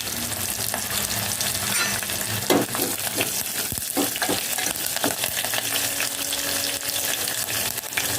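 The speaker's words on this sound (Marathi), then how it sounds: "म्हणजे लसूण आणि मिरची दोन्ही छान तळले जातील" Garlic and green chillies fry in hot oil as curry leaves go in for kokum sar, giving a loud continuous sizzle broken by a few sharper crackles and stirring clatters.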